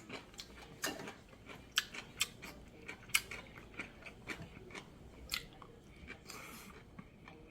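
Crisp, crunchy chewing of food during a home-cooked Korean meal, with close, repeated bites and sharp crackles in an uneven rhythm, no talking.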